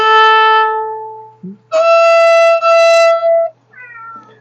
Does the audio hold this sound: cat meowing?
yes